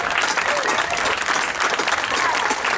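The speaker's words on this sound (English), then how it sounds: "Let's give them a round of applause" A graduation ceremony audience applauds loudly, a dense, steady wash of many hands clapping, with faint voices underneath.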